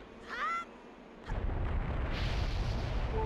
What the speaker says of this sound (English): This was for a bomb.